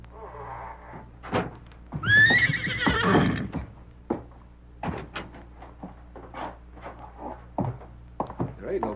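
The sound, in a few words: horses neighing and moving in a stable, radio drama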